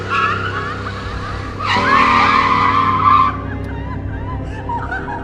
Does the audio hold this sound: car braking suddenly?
yes